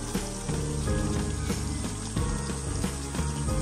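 A whole chicken sizzles and spits in hot oil over medium heat for a Bengali murg musallam roast, steady close crackling with bubbly pops and occasional scraping clinks.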